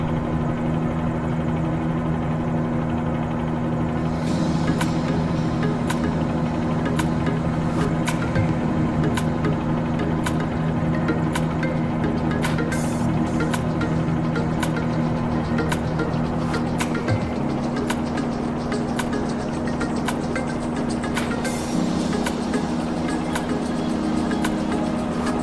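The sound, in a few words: helicopter flying in Microsoft Flight Simulator video game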